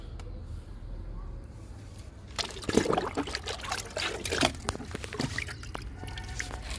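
Liquid fertilizer poured from a container onto a potted flowering plant, a soft trickling splash that starts partway through and continues in uneven bursts, fairly close, with low background hum.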